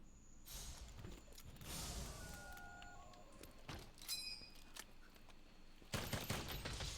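Bowgun fire in a modded Monster Hunter World session, a run of rapid mechanical shots and reload clicks over steady game ambience, with a louder burst near the end.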